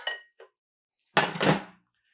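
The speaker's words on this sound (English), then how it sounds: "Let's go ahead and stir it," Shrimp and broccoli stirred in a pan, a couple of brief, close scrapes and clinks of a utensil against metal after a short faint bit at the start.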